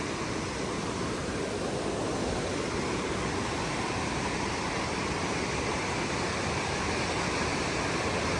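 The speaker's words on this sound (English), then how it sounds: "The water's really roaring through here too." Water roars steadily through a creek on the trail to Mouse Creek Falls near Big Creek, North Carolina, a loud, unbroken rushing wash with no voices over it.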